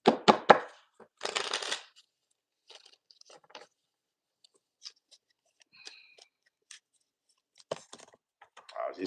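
Tarot cards riffle and shuffle in two short bursts at the start, then quiet handling clicks and taps, with a final burst of card noise near the end; no talk.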